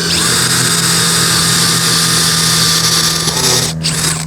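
A power drill with a plug cutter bores into aged deck wood, whining loud and steady for about four seconds with a constant low hum, then briefly dips as the cut finishes.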